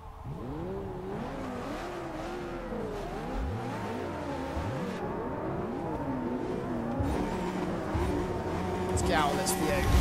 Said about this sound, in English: give you your first look and first drive of the spectacular 2017 Ford GT